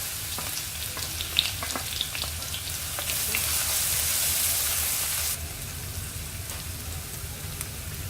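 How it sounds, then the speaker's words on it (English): Crushed ginger and garlic sizzle steadily in hot oil in a kadai, a close, continuous crackling fry with a brief louder burst midway and no talking. "Now I'll add the crushed ginger and garlic."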